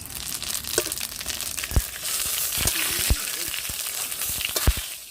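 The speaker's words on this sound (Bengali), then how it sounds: "কড়াই গরম হয়ে গেছে দিয়ে দিচ্ছি সর্ষের তেল ফোড়নের জন্য" Whole cumin seeds tempering in hot mustard oil in a wok, crackling and sizzling up close, with sharp pops scattered over a continuous frying hiss.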